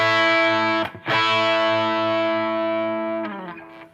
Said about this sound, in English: he's playing the 5th, which makes it a power chord